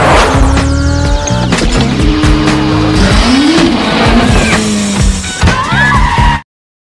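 A car races and turns through narrow streets during a movie chase scene, with loud continuous engine roar, revving, tire squeal and skidding that cut off abruptly at the end.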